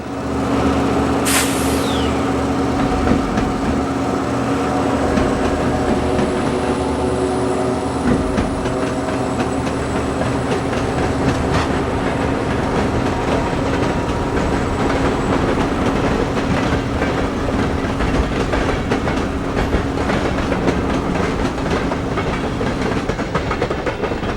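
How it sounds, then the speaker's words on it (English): A B&O westbound freight train led by GP30 locomotives approaches HM Tower in Holgate, Ohio, a loud continuous rumble of engines and rolling wagons with a sharp air-brake hiss near the start, no voices. "a westbound freight approaches HM Tower in Holgate, Ohio"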